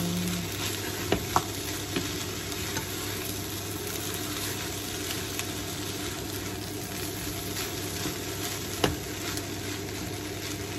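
Small-cut sausage pieces stir-frying in a pan for Filipino fried rice, a steady, moderately faint sizzle running throughout with a few light utensil clicks and taps.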